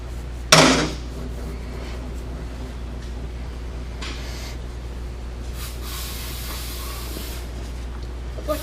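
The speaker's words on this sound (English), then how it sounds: "let's get some brake cleaner on the rag here" Brake cleaner hisses from an aerosol can onto a rag during an ISX engine rebuild, a sharp loud spray burst near the start followed by quiet shop background and faint shuffling.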